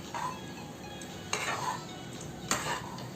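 Lemon rice with fried cashews and peanuts is mixed in a pan: a continuous sizzling hiss broken by two louder scraping strokes of a spoon against the metal, close up and with no talking.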